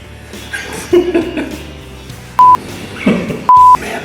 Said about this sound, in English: And Randy, turn that damn phone off